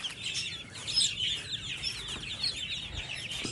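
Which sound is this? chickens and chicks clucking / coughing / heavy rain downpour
chickens and chicks clucking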